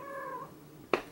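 A cat meows with a drawn-out, wavering cry up close, followed by a brief pause and then a short, sharp second call.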